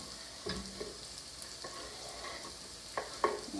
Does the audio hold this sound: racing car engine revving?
no